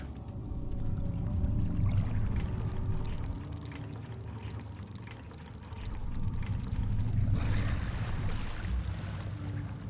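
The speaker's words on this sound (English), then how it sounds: "I don't like hearing those splashes down there." Water splashing and sloshing far below in the horror game Amnesia: The Dark Descent, a steady rushing wash that swells, dips and swells again beneath a low ambient rumble.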